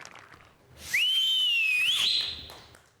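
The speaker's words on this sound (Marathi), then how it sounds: "पहिली शिट्टी तुमच्यासाठी." A single loud, sustained whistle with a rising, wavering pitch lasts about a second and stands alone against a quiet background.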